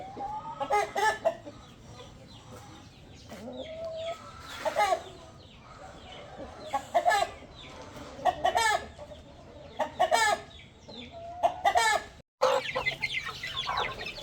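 A hen settling onto eggs clucks close by in short, repeated bursts of throaty calls, spaced irregularly across the stretch over a quiet background hum.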